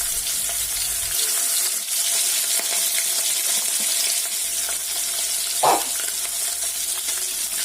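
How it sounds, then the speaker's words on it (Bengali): Chapila fish fry in hot oil in a wok with a loud, continuous crackling sizzle, plus a brief scraping knock partway through. "কড়াইয়ের তেল খুব ভালোভাবে গরম হয়ে গেলে এর মধ্যে আমি মাছগুলো দিয়ে ভেজে নেব।"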